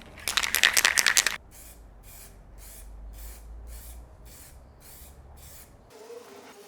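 Semi-gloss black paint is sprayed in a paint booth, with a loud opening hiss of rapid spray bursts followed by a rhythmic series of softer, evenly spaced spray pulses.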